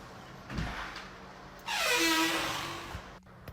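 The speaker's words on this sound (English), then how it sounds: "This door is squeaking." A cabinet door in a house squeaks in one drawn-out, rising creak lasting over a second, fairly close and loud, with a soft knock before and after.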